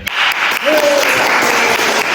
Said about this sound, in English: I just want to give one more round of applause for team for 3rd place